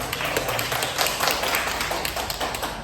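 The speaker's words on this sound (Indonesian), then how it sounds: "ini tepuk tangan dulu ya" An audience at a facilitator training session for community empowerment claps together in a steady, dense patter of overlapping hand claps that fills the whole stretch at an even level.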